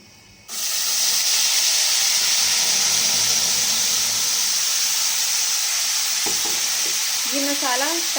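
Cumin seeds hit hot oil and burst into a loud, steady sizzle that starts abruptly after a brief quiet moment and hisses on without a break. Near the end a short stirring clatter is heard, followed by a faint voice.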